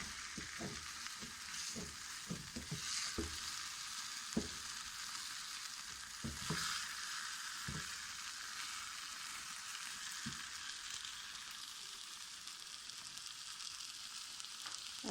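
Food is stirred and mixed in a pan over a steady frying sizzle, with a series of soft scraping and clinking strokes in the first half, then a continuing hiss alone, all quiet.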